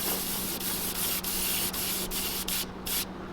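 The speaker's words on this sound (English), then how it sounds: "I'm opening the airbrush all the way up, hitting the whole thing" An airbrush sprays paint onto a crankbait lure, giving a steady close hiss of air broken by short regular gaps where the trigger is eased off.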